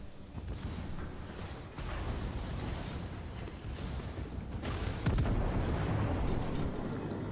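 Naval gunfire and shell impacts in the World of Warships video game, a continuous rumble of overlapping booms and blasts from the battleship Gangut's main guns and secondaries, growing louder with a heavy burst near the end.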